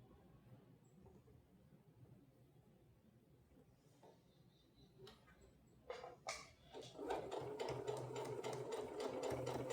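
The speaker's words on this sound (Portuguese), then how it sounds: "vou bater só uma costura de segurança" A sewing machine stitches a safety seam on a fitted sheath dress, quiet handling and a few faint clicks at first, then the motor starts and runs in a steady, fast stitching whir that grows louder toward the end.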